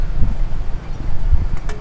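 Low, gusty wind rumbles against the microphone on a beach camp in Calatagan, Batangas, buffeting in uneven bursts close up, with faint rustling.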